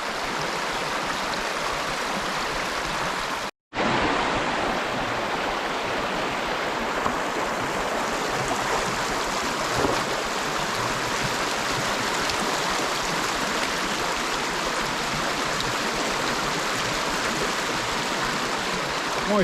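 Creek water flowing steadily near old timbers crossing into the stream, a continuous broadband rush that holds for the whole stretch apart from one brief dropout near the start.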